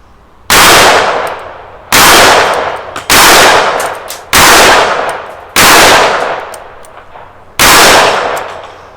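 Six loud, sharp gunshots from a 6-inch Smith & Wesson Model 19 revolver, fired at a fairly even pace about one per second, each crack trailing off into a short echoing decay.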